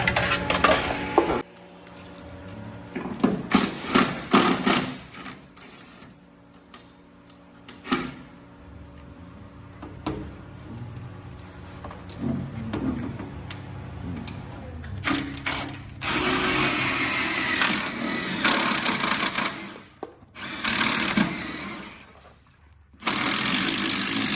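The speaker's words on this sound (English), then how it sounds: "So now we gotta take that self-tapping screw out and put it in up here closer so that we can suck that metal back up." A drill backs out a self-tapping screw from sheet metal on a boat transom and drives it back in, with whirring bursts, ratcheting clicks and metallic clanks up close.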